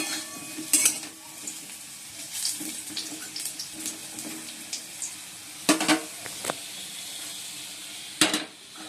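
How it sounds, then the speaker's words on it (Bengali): Potato pieces frying in a pan for a cauliflower-potato curry in a home kitchen, a low sizzle broken by several sharp clatters and stirring scrapes. "এই বন্ধুরা, আলুটা ভেজে নিচ্ছি।"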